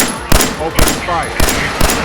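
Gunfire in a Fallout game, four sharp, loud bursts spaced roughly half a second apart, with a whooshing tail and a faint high whine between shots.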